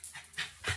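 A white dog pants and sniffs in short, breathy bursts close by, a brief run of quick huffs with no talking over it.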